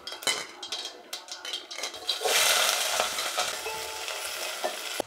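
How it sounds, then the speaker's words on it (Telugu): Mustard seeds and chopped onion sizzle and crackle in hot oil in a pan while a utensil stirs with repeated scraping and clinking, close up and fairly loud. "కొంచెం ఆవాలు వేగిన తర్వాత ఎర్రగడ్డ వేసుకోవాలి."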